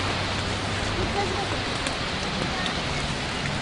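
Rain falls steadily at Plitvice in Croatia, a continuous soft hiss of drops forming a constant bed of sound throughout, with a low hum running beneath it.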